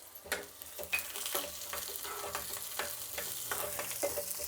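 Onion added to hot oil with green chillies spits and sizzles, with frequent stirring scrapes and taps close by.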